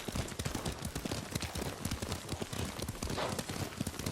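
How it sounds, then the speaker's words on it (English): Horse hooves clip-clop at a steady running rhythm as a mount is ridden in the video game Ghost of Tsushima, close and continuous with no speech. "Lord Sakai taught me to ride a horse."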